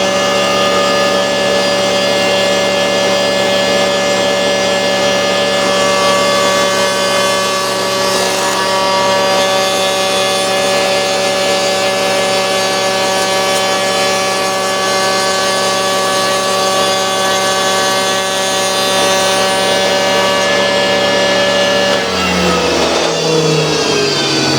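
A Fairmont railway speeder engine runs steadily for about twenty seconds, a loud mechanical drone with strong harmonic hum, then changes pitch and stutters near the end as the engine is cut or throttled back.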